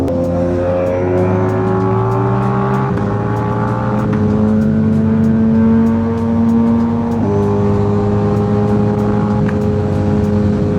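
A very powerful motorcycle revs hard while being ridden, its engine climbing through high RPM in loud, sustained pitch sweeps that rise and shift with gear changes, close to the microphone with no talk over it.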